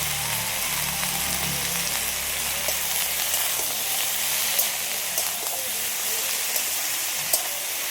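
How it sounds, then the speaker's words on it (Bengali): Pumpkin greens with salt and turmeric powder fry lightly in a pan, giving a steady gentle sizzle and hiss, broken by occasional stirring scrapes, with a low hum early on that fades. "কুমড়ো শাকটা দেওয়ার পরে কিন্তু তার বেশি ভাজবো না, হালকা করে একটু নেড়ে চেড়ে নিয়েছি"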